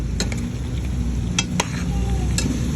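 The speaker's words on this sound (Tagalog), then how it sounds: "haluin lang natin para mag-incorporate ang toyo sa karne ng manok" Stirring chicken adobo in a pan after soy sauce goes in: a steady low sizzle with a few sharp clicks of a utensil against the pan.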